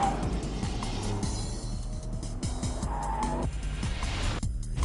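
A Ford GT and a Nissan GTR race car lapping a track, engines revving hard with rising and falling pitch through gear shifts, loud and close, with brief tire squeal through high-speed transitions.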